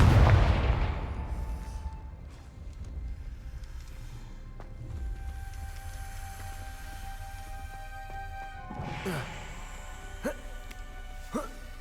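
A Confringo fire spell from the Hogwarts Legacy video game blasts with a loud burst at the start, followed by lingering magical tones and a couple of later sharp crackling hits.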